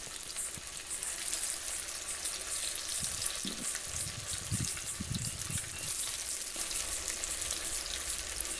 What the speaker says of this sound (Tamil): நம்ம பெரட்டி எடுத்த உடனே நம்ம ஆயிலில் போட்டு பொரிச்சு எடுத்துடலாம்